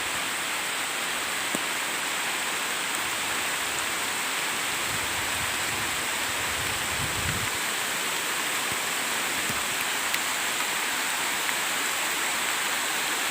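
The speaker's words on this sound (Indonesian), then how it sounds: "Makin lama makin hujan lebat." Heavy rain pours steadily in a village, a dense unbroken hiss close around with faint low thumps of drops, no voices.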